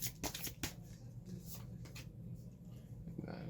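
Tarot cards drawn and handled during a pick-a-card reading, giving a few sharp slaps and soft papery flicks close by, with low background hum and a voice speaking at moments.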